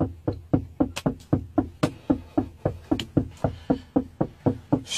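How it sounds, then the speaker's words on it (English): Persistent knuckle knocks on a parked car's window at night, a rapid, steady series of close, sharp raps repeating without pause, with no one speaking. "He been knocking for about 10 minutes."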